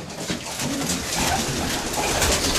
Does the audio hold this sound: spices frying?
no